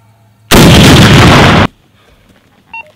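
An AT4 rocket launcher firing live on a range gives one loud, close blast that roars for about a second and cuts off, followed by quiet with a faint radio beep.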